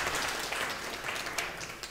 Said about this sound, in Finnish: Sitten Jussi, no antaa aplodit, yes.